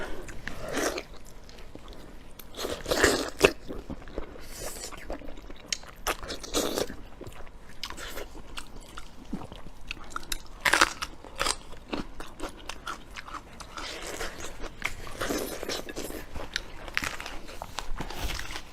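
Close-up crunchy bites and wet chewing of Chinese cured pork, repeated irregular bites with lip smacks and mouth noises at close range, alone without talk.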